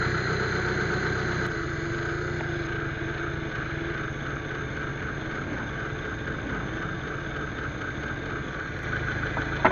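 Car engine idling steadily after an idle speed adjustment at the base screw, a continuous mid-pitched hum with an even throb, close and loud with no talk for nearly ten seconds.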